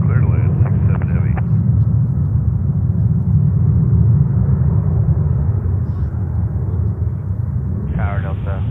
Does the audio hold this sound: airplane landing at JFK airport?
yes